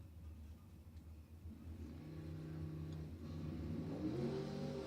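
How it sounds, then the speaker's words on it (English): An injected front-engine dragster revs at a drag strip, a low rumbling engine tone that climbs in pitch toward the end, steady and fairly distant with no talk over it. "It's a little injected front engine dragster."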